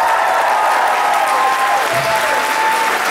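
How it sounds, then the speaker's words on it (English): Convention crowd applauding the organisers at an anime convention opening ceremony, a loud, dense and sustained wash of clapping with no break. "So, round of applause for everyone that you can see on this list."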